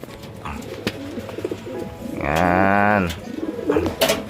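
A racing pigeon just returned from a mini derby race coos in a sustained throaty burst, close and clear, while someone talks before and after around the loft.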